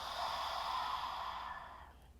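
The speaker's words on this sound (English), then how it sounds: "Take a breath in and open your mouth, exhale it out." One long exhale through an open mouth, a close, airy breath that starts full and tapers off over about two seconds.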